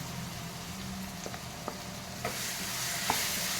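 Ginger garlic paste and onion frying in a pan, a steady sizzle with a few scraping stirs and small pops, close and continuous with no voices.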